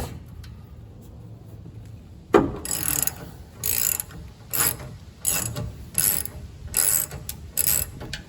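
A 3/8 socket ratchet works a ground strap bolt on the gas tank of a 1967 Cadillac, giving a run of about seven short, close clicking bursts after a single knock, with no talk.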